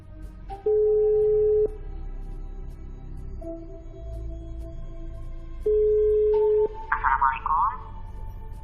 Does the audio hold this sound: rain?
no